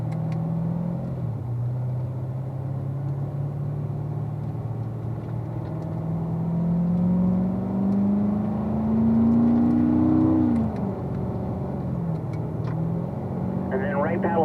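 Car engine on a race track revving and pulling up through the gears with paddle shifts, a steady close drone that climbs in pitch, drops at a shift and climbs again.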